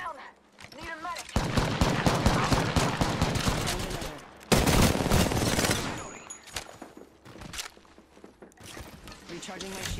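Bursts of rapid gunfire in a video game shooter, with dense automatic volleys separated by short lulls and mechanical clicks, and a voice talking faintly underneath.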